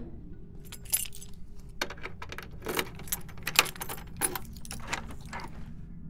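Keys jangle close by as an apartment door is unlocked and opened, a run of small metallic clinks and rattles over a low background rumble, with no voices.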